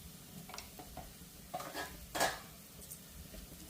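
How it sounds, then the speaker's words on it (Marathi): Faint stirring of chopped mustard greens in a pan on the stove, a few soft utensil scrapes and clinks over low background hiss. "आणि परतून घेऊया थोडंसं आणि याच्यामध्ये ही वाफवून घेतलेली बारीक केलेली भाजी, मोहरीची भाजी"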